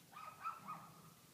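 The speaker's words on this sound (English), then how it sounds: "Barking at the horses." A puppy on a horse farm gives a few faint, distant yips and barks in quick succession toward the horses, over a quiet outdoor background.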